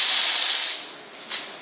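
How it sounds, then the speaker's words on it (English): Loud, close hiss of a high-pressure steam wand on a Lavazza hybrid coffee machine used for milk foaming, strong at first and then fading, with a brief second puff near the end. "followed by steam wands, two high pressure steam wands for good quality milk foaming"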